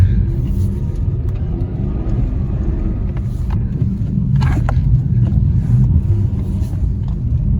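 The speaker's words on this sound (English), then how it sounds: "jump in the CRV here, which is actually pretty fun in the snow. Yeah, plow through the snow here." A Honda CR-V with all-wheel drive plows through snow on a road, giving a steady, close low engine and road rumble throughout with a few faint crunches on top and no talking.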